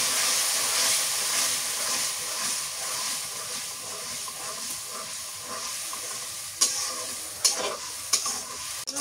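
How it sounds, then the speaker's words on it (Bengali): Dal sautéed in oil with nigella seeds is stirred in a pan, giving a continuous loud sizzle and hiss, with a few sharp scrapes of the spoon near the end. "ডালে এইভাবে কষার লাগে"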